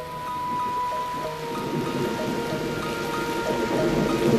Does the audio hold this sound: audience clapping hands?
no